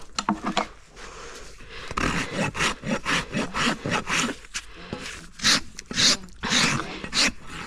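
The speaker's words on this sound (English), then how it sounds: "I'm just smoothing everything with my rasp." A hoof rasp smooths a horse's trimmed hoof in a run of rhythmic, scraping strokes, close and crisp, about a dozen passes with short gaps between them.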